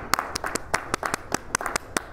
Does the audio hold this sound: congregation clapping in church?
yes